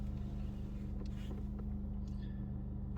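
A Volkswagen Passat B8 engine idles just after starting, a steady low hum and rumble heard from inside the car, with faint light clicks over it.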